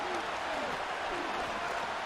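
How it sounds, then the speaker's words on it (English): Stadium crowd noise from Madden NFL 25 at M&T Bank Stadium, Bengals at Ravens: a steady, distant roar of cheering and murmur that stays level throughout. "You can hear the crowd."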